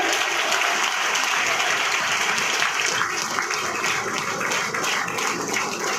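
A large gathering at a MEMU train launch ceremony in Guna bursts into loud, sustained clapping that holds evenly for several seconds, a thick wash of hands without pause.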